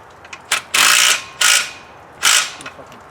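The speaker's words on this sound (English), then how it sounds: "Let me just tighten that and I'll finish tightening mine." A ratchet wrench tightens a bolt on a 1967 Checker Marathon during a Vortec 4200 engine swap, three or four loud, close bursts of rapid clicking separated by short pauses.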